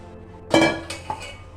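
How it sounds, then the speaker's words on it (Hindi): A spoon mixes cooked rice in a metal pot for kabab biryani, with a ringing clank followed by a few lighter scrapes and clinks, close and brief. "तो जो बाकी के भी चावल इसके अंदर आपके रह गए हैं उनको भी आप इस तरह से इसमें मिक्स कर लें।"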